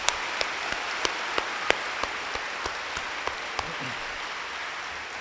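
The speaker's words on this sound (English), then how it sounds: "Clap for yourself." University students applaud themselves in a large hall during a welcome program. The claps are faint and sparse, sounding as a slow, irregular pattern of thin smacks over a steady room hiss, and they fade out toward the end.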